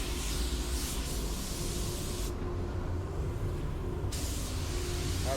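Spray gun laying a PPG control coat of transparent color onto a car bumper: a steady, close, continuous broadband hiss that briefly drops away mid-pass before resuming at full strength.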